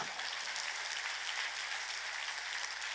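A church congregation at a spring mountain revival service claps together in a steady, even wash of faint, distant applause with no break over the short span.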